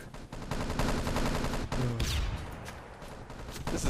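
Gunfire in an Enemy Territory multiplayer match, with rapid, loud automatic fire blending with scattered single shots over a busy battle din.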